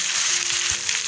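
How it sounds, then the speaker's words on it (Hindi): A tadka of onion, fenugreek and ginger sizzles steadily and loudly in a frying pan, a continuous bright crackle. "अब इसमें लगाऊंगी तड़का।"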